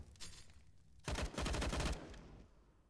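In Counter-Strike, on the Mirage map, a pistol fires a rapid burst of shots that lasts about a second, following a few faint pops, then the fight falls quiet again.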